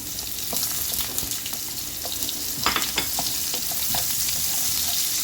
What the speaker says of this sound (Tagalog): Pagkatapos po, igisa natin ang sibuyas.